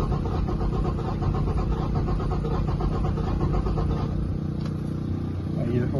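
A car engine cranks over and over on the key during a compression test, a steady rhythmic churning that continues for several seconds, with a voice talking over it.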